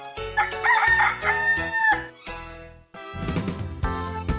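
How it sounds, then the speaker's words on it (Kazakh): A rooster crows loudly and close by, a long drawn-out cock-a-doodle-doo in several strained segments lasting about four seconds, with no voices over it. "Әтеш."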